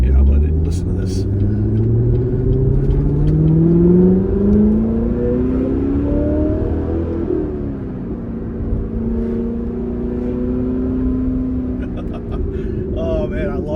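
A Corvette ZR1 engine revs loud and close, its pitch climbing in long sweeps, easing briefly, then rising again as a steady rumble continues underneath.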